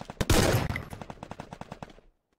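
Rapid automatic gunfire from a gun in the video game Free Fire, opening with a loud blast and then a fast, evenly spaced burst of about a dozen shots that stops abruptly into silence.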